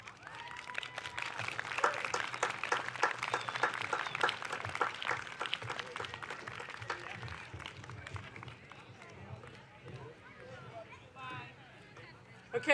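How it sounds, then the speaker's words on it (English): An audience at an evening live event clapping, fairly loud applause for the first several seconds that gradually thins and fades, with talk over the tail. "I want us to clap him all the way back to his seat"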